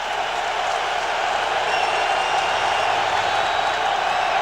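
A steady roar from a football stadium crowd on its feet at a 2002 Chiefs at Patriots game, a broad continuous wash of cheering and noise holding at an even level throughout with no pauses.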